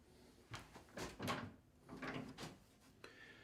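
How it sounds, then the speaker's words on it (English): A door being opened inside a reputedly haunted hotel at night, giving a series of close wooden creaks, scrapes and soft knocks in several bursts over about three seconds, with no one speaking. "But I'm going to open the door."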